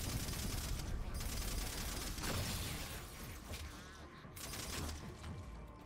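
Gunfire and a blast from a weapon in the Halo 4 video game, with dense, continuous firing crackle and booming impacts running loud through the whole stretch and a heavy explosion swell near the end.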